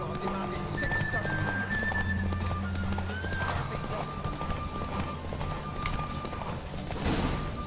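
Horse hooves galloping in steady clip-clop rhythm in The Witcher 3, with neighing and whinnying over a continuous background of game music and ambience, and a voice speaking briefly.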